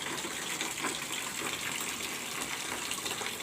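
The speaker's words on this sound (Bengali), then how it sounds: "এই যে দেখো, টাইম কলে জল এসছে" Water gushes steadily from a timed public tap into a container as it is being filled outdoors, a continuous broadband rush that stays loud and even throughout with no voices.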